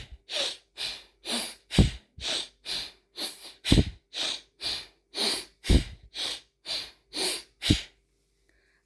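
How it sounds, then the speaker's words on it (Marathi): Fast alternate-nostril pranayama breathing, a steady series of about fourteen sharp, rhythmic nasal breaths pushed in quick succession, close and clear with no talking, stopping abruptly near the end. "या पोझिशनमध्ये बसून तुम्हाला डावीकडून श्वास घ्यायचा आहे फास्टमध्ये, उजवीकडे सोडायचा आहे"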